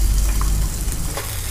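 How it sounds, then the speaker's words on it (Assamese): Chana dal frying in hot oil in a kadai, about half a cup, gives a steady close sizzle and crackle with no talk over it. "মই চানা ডালি লৈছো ইয়াতে আধা কাপ এখিনি মই ইয়াত দি এতিয়া ভাজি ল'ম"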